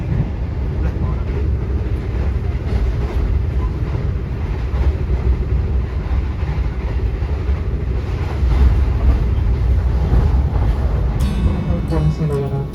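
Steady rumble of a passenger train running between Tawang and Jakarta, heard from inside the carriage, with a continuous low roar and faint rhythmic wheel beats, a brief surge near the end, and some voices over it.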